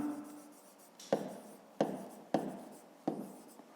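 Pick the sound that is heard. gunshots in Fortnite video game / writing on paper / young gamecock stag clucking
writing on paper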